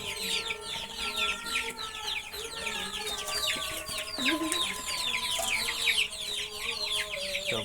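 A flock of layer hens clucks busily at feeding time, with overlapping cackles and chirpy calls that stay steady and fairly close throughout, along with a faint crow and scattered bird chatter in the background.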